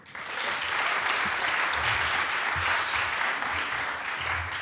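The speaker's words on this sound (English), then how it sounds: "Also a big round of applause for, last but not least, Aisha Amin." A conference audience applauds panelists at a feminist climate finance event, with steady, dense clapping held at full strength for nearly five seconds, sustained and even throughout.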